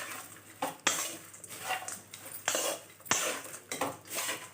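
A spoon stirs ivy gourd, curry leaves, onions, green chillies and coconut pieces in a pan, making repeated metallic scrapes and clinks at an uneven rhythm, close and moderately loud with no talking.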